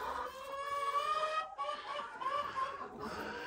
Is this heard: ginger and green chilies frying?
no